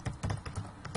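Quick light keystrokes on a computer keyboard tap out a short word in a quiet room, a steady patter of close clicks with no one talking.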